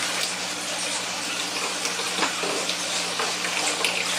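Acid being poured into a container during a home gold recovery from computer RAM, a steady liquid gush and splash that is fairly loud and close, with no talk.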